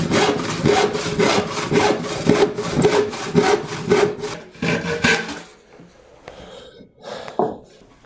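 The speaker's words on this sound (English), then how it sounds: "I have a much finer cross-cut panel saw here" Rhythmic rasping strokes of a fine cross-cut panel saw working through a wooden board, close and steady for about five seconds, then a few scattered lighter scrapes as the cut finishes; no talk.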